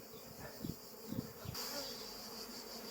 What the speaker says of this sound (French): les abeilles en fait, qui se situent dans la hausse commencent à retourner dans la ruche